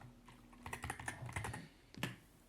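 Quick, quiet bursts of keystrokes on a computer keyboard at a command line, a short run of clicks, a pause, then a final tap, alone without talk.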